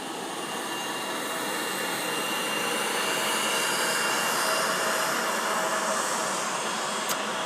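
Steady broadband jet roar of a CRJ 500 regional jet at an airport, loud and continuous throughout with a slight swell near the middle, no talking.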